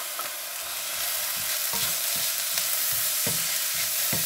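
Grated carrot stir-fried in an oily pan for chicken fried rice, a bright steady hiss of frying with regular scraping strokes of the spatula, near and loud with no talking.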